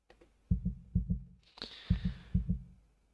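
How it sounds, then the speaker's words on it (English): Heartbeat sound effect from the video game Honkai Impact 3rd, with deep, thudding lub-dub pairs repeating in a slow, regular rhythm. Partway through, a brief hissing swell rises over the beats. "my heartbeat keeps getting louder"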